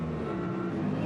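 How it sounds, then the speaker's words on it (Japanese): Super GT race cars at Fuji Speedway in 2007 fire up and rev before the formation lap, a dense, continuous engine roar with deep low rumble and higher whine layered together, loud and steady. "全マシンのエンジンに火が入りました。"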